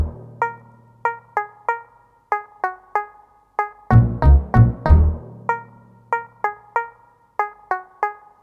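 Melodic parts of a Logic Pro remake made with stock plugins: a repeating plucked, bell-like riff in a steady rhythm, with a deeper swelling bass-and-chord passage midway, no drums and no voices.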